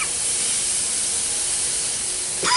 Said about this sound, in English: Sear that other side.